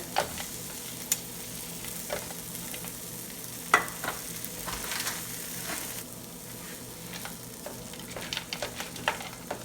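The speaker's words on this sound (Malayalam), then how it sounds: "ഇനി നമുക്ക് ഈ ഉള്ളിയിലേക്ക് കുറച്ച് ഗ്രീൻ പീസ് ചേർത്ത് കൊടുക്കണം." Fresh green peas hit onions frying in a pan, giving a soft, steady sizzle broken by scattered clicks and light scrapes as the mixture is stirred, with no one speaking.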